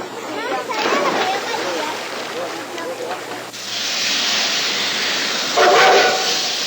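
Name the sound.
antiquated steam locomotive hissing and whistling in Cuba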